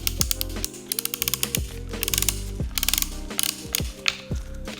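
Metal grip of a Portex Epic 2 console being unscrewed, with quick repeated ratchet-like clicks and rasping turns in close, irregular bursts and no talking.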